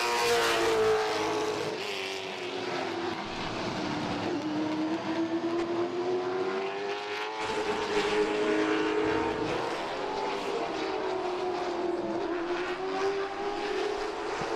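A late model race car runs a qualifying lap at Tri-County in a CARS Tour event, its engine note rising and falling steadily through gears and corners, loud and continuous throughout with no talk.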